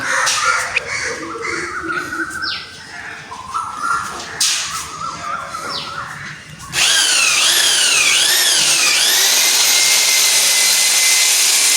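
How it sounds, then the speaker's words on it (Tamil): Power tool work while riveting an aluminium frame onto an L-bar at a Jaffna workshop, a loud whining drill-like run with bursts, then a sustained high buzzing with warbling tones filling the second half. "இந்த புரேம் வந்து எல்பார் மேலே வச்சு ஒரு ரிவட் அடித்து ஃபிட் பண்ணுறோம்."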